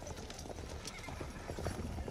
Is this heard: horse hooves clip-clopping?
yes